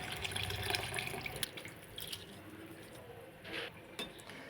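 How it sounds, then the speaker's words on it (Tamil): Soaked rice tipped into a pot of water for a soya vegetable biryani, a splashy watery pour with metallic scraping against the pot that then settles into quieter drips and clinks. "இப்போ இந்த அரிசியை சேர்த்துக்கலாம்."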